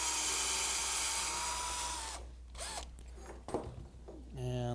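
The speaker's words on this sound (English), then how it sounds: "I'm going to drill one hole towards the end, about in the middle." A drill bores a single hole near the end of an oak bucket, a loud steady whir for about two seconds that stops abruptly, followed by quieter handling clatter and a brief renewed burst at the end.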